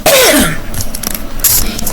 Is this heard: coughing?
yes